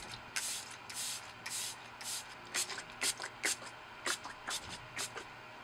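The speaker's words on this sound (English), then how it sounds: "set everything with the L'Oreal Infallible Setting Spray" A series of short, breathy bursts of L'Oreal Infallible setting spray, some single and some in quick pairs, hissing close by in an otherwise quiet room.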